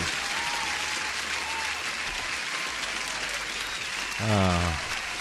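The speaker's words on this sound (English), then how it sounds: "Applause to Natasha." Steady applause plays on a live day-trading stream for Natasha, a continuous crowd clapping sound held at even level, with a short voice briefly rising over it near the end.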